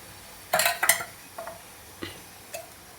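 A metal kadhai for Kolhapuri chicken masala clanks onto a kitchen stove: a loud cluster of metallic knocks, then three softer taps spaced about half a second apart, close by, with no talking.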